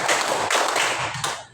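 A group of participants claps in a brief counted pattern, a close burst of bright, overlapping claps in quick succession that fades at the end.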